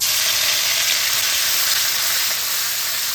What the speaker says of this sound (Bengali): এটাকে খুব সুন্দর করে এর মধ্যে ফ্রাই করে নেব